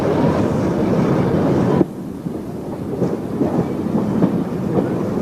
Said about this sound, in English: we pull through the 260-yard long Falsgrave Tunnel and into Lonsborough Road platform